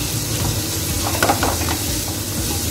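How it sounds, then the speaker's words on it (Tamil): Onions sautéing in oil for a kingfish samma, giving a steady close sizzle with a few louder scraping stirs near the middle and no talk. "கொஞ்சம் நேரம் அந்த வெங்காயம்லாம் வதங்கட்டும்"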